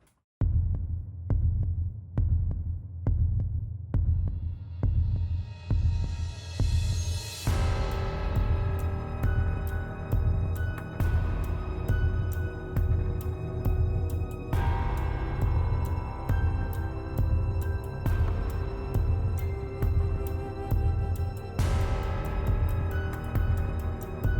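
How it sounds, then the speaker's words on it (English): An air compressor filling up in a workshop while a cobweb glue gun warms, its motor starting with a quick thumping pulse that settles into a steady, loud, throbbing hum with periodic surges. "should we go ahead and get the air compressor filling up and the glue gun warming?"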